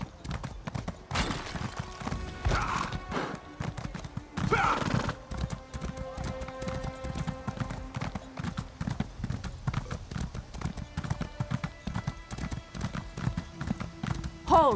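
Hooves of a horse in The Elder Scrolls Online clatter in a steady, fast clip-clop rhythm, with a whinny and a few brief bursts of other game sounds, close and prominent, while a voice speaks occasionally.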